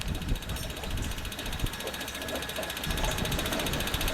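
A waste oil distiller that turns used oil into diesel fuel runs with a steady, dense mechanical clatter and rattle. The noise is continuous and fairly loud throughout, with no voices.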